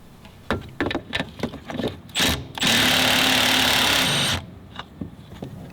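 A Milwaukee M12 Fuel cordless ratchet runs in one steady, loud, buzzing burst of about two seconds, framed by shorter clicks and handling knocks before and after.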